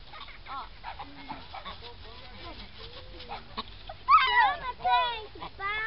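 A duck quacks in a bird park, a few loud honking calls near the end after quieter background sounds, with people, including children, talking throughout.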